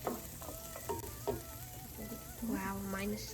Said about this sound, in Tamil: அது கூடவே கொஞ்சம் புளி சேர்த்து நல்லா கொதிக்க விட்டுறலாம்.